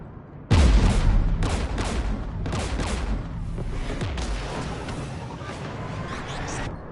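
Rapid bursts of gunfire and a heavy boom erupt at once in Mass Effect Legendary Edition, with shots continuing in repeated volleys over a rumbling battle backdrop.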